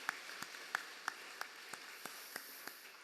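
A congregation at a Christmas church service claps together in a steady rhythm, about three claps per second, heard faintly and somewhat distant.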